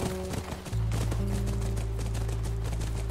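A horse's hooves clip-clop steadily in The Last of Us near a ranch, the rhythmic clopping close and fairly loud over a low background drone.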